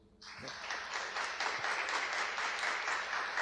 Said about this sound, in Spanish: la actriz María Elena Olivares, para quien pido un aplauso